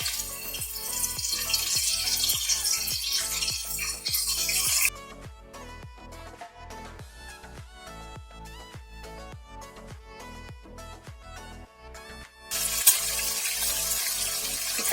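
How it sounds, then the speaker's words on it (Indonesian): Steady crackling sizzle of chicken wings frying in hot oil, fading in and out between stretches of quieter rhythmic sounds. "Kita goreng hingga matang ya."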